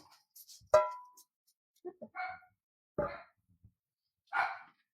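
A dog in a home kitchen gives several short, sharp barks spaced a second or so apart, clear and fairly close, with quiet gaps between.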